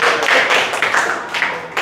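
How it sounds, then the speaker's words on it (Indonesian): A class of students clapping hands together for a classmate during a lesson, a close, fairly loud burst of overlapping claps that fades out after under two seconds. "tepuk tangan buat Lina"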